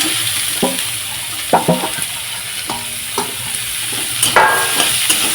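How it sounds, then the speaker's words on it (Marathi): Long-sliced onions, three large ones, frying in a pan for a kadai paneer, with a steady sizzle and several clear stirring scrapes spaced through the sound, close and moderately loud, no talking. "इथे मोठे मोठे तीन कांदे मी आहे बारीक चिरून घेतले आहेत लांब लांब त्यांना भाजून घेते"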